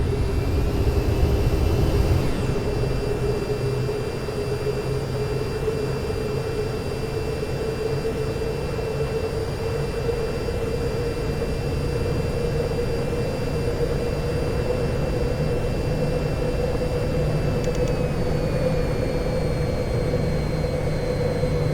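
A jet aircraft flies in the VTOL VR flight game, a loud, steady engine roar with a constant whine that holds unchanged throughout.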